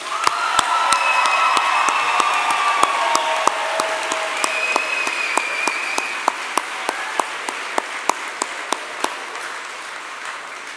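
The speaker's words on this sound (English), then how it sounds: "How about one more round of applause for our graduates?" Sustained applause and clapping from a commencement crowd honoring graduates, steady and dense throughout with a few sharp isolated claps standing out near the front and faint whistles or cheers mixed in.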